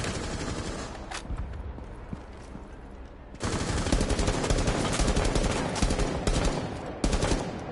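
Rapid gunfire from a burst weapon in the PS4 game Seizing Rainbows: dense, loud rattling volleys that grow heavier and more continuous partway through, with sharp cracks standing out.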